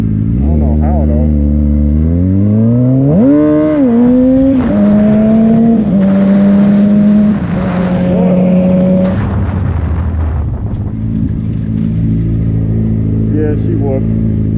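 A Suzuki K6 GSX-R 600 motorcycle with a slipping slipper clutch revs hard during a wheelie attempt, its engine climbing and holding high before dropping back to a lower drone, loud and close throughout.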